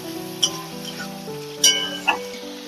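Small fried prawns tossed into a pan of cooking bamboo shoots, with steady sizzling and a few sharp clatters as they drop in and are stirred.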